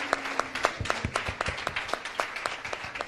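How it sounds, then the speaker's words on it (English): A mostly female audience claps along at a live talk, sharp distinct hand claps mixed with a lighter crowd patter, close and punchy, the individual claps standing out in an uneven rhythm. "give yourselves a round of applause for being so amazing"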